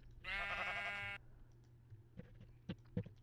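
A sheep in the Minecraft video game lets out one loud, drawn-out bleat up close, followed by a few quiet clicks and soft game sounds.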